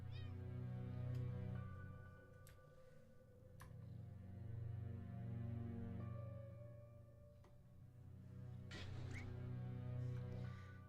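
A cat meows in the video game Impostor Factory, faint and drawn out over a low humming drone, with a few soft clicks and no talk.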